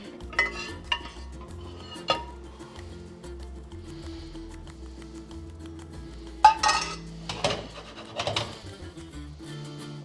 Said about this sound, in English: do some stirring and let it cook for another minute